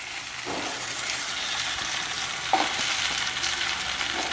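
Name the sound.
chicken bhuna frying on high flame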